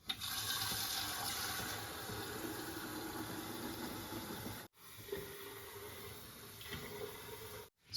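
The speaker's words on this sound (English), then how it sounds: "We need to fill it up again and then bring it back for our second cycle" Water rushes steadily into an Osmo Fresh Fusion Air reverse osmosis filter as it is refilled, a continuous hiss and splash that pauses briefly twice.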